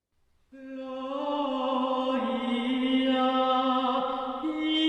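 A solo voice sings a sustained chant line, the opening incipit of a medieval choral mass of the early 1300s, clear and resonant, holding long notes with no accompaniment.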